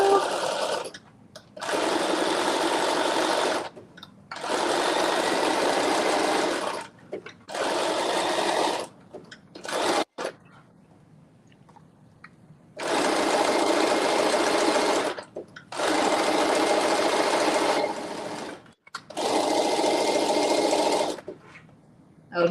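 A sewing machine runs in several bursts of steady stitching, each a few seconds long, separated by short pauses, during a sew-along of a McCall's M8208 pattern; the motor whir is close and loud, with a quiet stretch midway.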